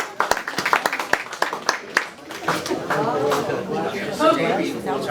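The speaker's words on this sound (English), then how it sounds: "we're going to have a round of applause for our City Councilman" Audience at a Virginia Beach Tea Party meeting claps for City Councilman John Moss; scattered individual claps in the first half build into denser applause, with talk and murmuring mixed underneath.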